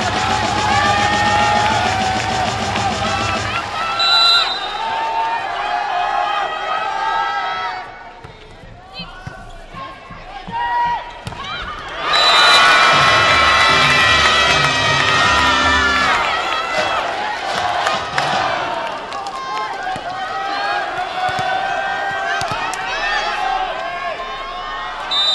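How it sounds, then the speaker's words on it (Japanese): A crowd cheers and roars in an arena at a 2014 V.Premier League women's volleyball match between Hisamitsu Springs and Toray Arrows, loud and sustained with a swelling burst midway, mixed with amplified announcer talk. "両チームの健闘に盛大なご声援をお送りください。"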